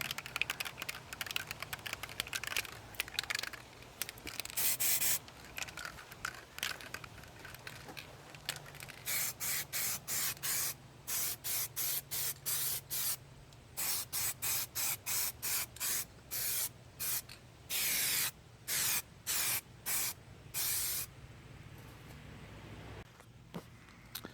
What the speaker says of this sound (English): Okay, so 3 nice coats of the aerosol primer